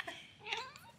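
A single short, faint meow from a grumbling cat, rising and falling within about a second, heard close and alone.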